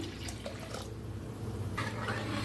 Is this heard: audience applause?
no